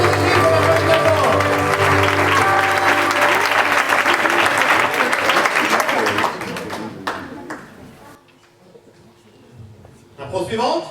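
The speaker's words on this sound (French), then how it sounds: "Bravo les deux équipes, on applaudit d'abord." An audience at an improv match breaks into loud, sustained applause that gradually fades away, followed by a few voices speaking near the end.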